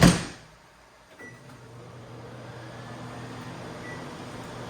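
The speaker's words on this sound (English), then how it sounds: "I know the microwave makes noise." A loud thud opens, then a steady low hum settles in and runs on evenly, like a microwave oven operating nearby.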